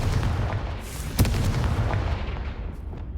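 A Confringo spell blast in the Hogwarts Legacy video game, a sharp booming impact over a steady dense rumble of game sound, near and loud, with no talking.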